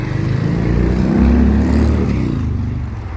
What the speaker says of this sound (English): why do people have such a loud motorcycle?